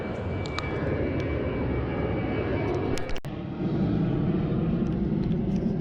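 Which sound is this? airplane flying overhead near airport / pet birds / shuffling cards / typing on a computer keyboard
airplane flying overhead near airport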